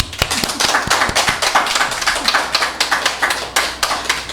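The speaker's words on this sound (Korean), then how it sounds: "저 자매 박수 한번 해줍시다." Congregation at a Korean church service clapping for a female church member, a close, loud, uneven run of individual hand claps with clear distinct strikes, a few hands rather than a large crowd.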